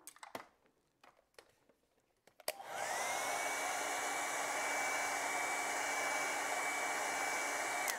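A few light handling clicks come first, then a hair dryer switches on and blows a steady, loud whooshing hum while drying acrylic paint on a chickadee winter painting.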